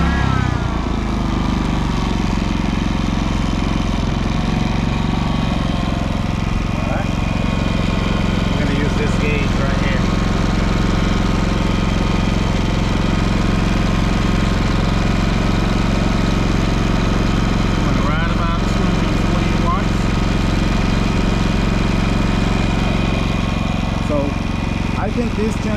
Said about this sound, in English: Let's go ahead and start the generator on propane.